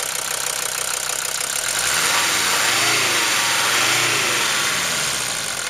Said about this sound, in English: I'll rev it up a little bit for you